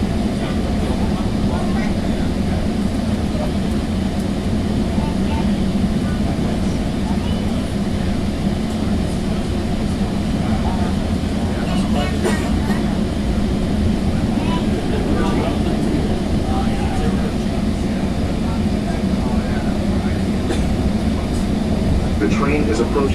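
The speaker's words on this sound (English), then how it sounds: "The train is approaching Kent Station." A steady, loud rumble and drone fill the interior of a Sound Transit Sounder commuter train as it approaches Kent Station, with a voice speaking over the constant noise.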